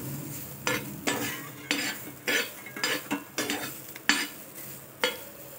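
A metal spoon repeatedly scrapes and clinks against a pan as fresh grated coconut roasts, with a steady rhythm of sharp strokes over a soft background sizzle.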